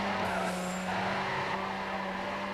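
Mazda RX-7 being driven from a garage, a steady, loud engine drone with a strong low hum and hiss, continuous and close throughout.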